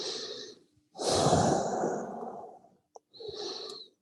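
A yoga class in a deep resting posture brings slow, audible deep breaths with long, expressive exhales, one strong breath filling the middle and a shorter one at the end, close and alone with no talking.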